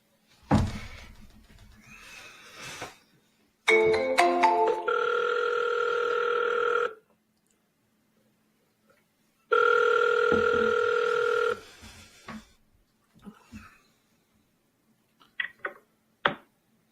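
A telephone call being dialed twice: two long ringback tones separated by silence, with a few clicks and short handling noises before and after.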